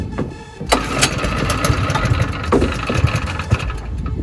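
The small engine of a lawn care spray rig sputters through an attempted start, with sharp bangs and uneven, rough running as it catches and nearly dies, loud and close with no talking.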